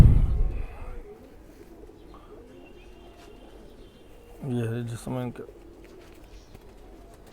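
Khaki chua pigeons in a loft give a couple of clear, rolling coos close by after a short burst of talk, then fainter cooing and soft chirps continue in the background.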